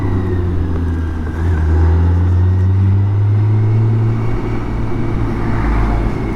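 A BMW K1600 GTL six-cylinder motorcycle engine drones steadily while riding on an open road, a loud, close, even hum with slight rises in pitch and constant wind rush.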